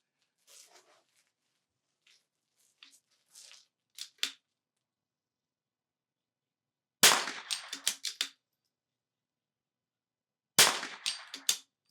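Rifle shots at an NRL22 .22 rimfire match, fired prone at an outdoor range: two sharp, loud cracks several seconds apart, each followed by short echoing rattles, with faint clicks and handling noises earlier.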